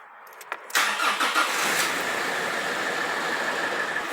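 A Nissan car engine cranks briefly, then catches and roars up loudly before settling into a steady close idle.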